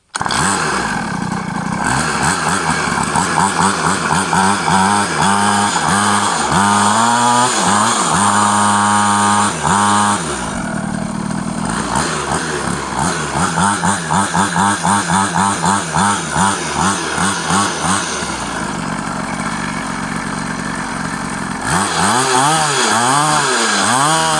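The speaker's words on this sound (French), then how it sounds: "On accélère avec un peu de gaz." A small two-stroke pocket bike engine buzzes loudly up close, revving up and down repeatedly with sharp whining surges and a brief drop near the middle.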